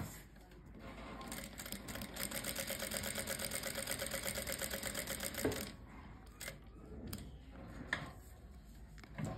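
A sewing machine runs steadily, stitching a neckline along buckram with a fast, even mechanical chatter that holds for several seconds. It then stops, leaving a few separate clicks and knocks from handling the fabric. The machine is close and of moderate loudness.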